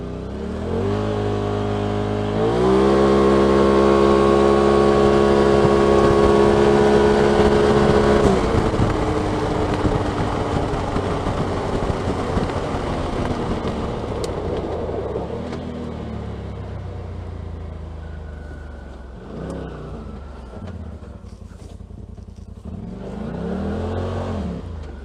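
A 2018 Turbo RZR with an Aftermarket Assassins S2 clutch kit and stock belt, its engine revving up hard and then holding a loud, steady high-rpm drone at about 55 mph before easing off near the end.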